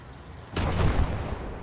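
A heavy artillery piece fires in the World War II strategy game Call to Arms, a single loud boom with a broad, rumbling tail that lingers and slowly fades.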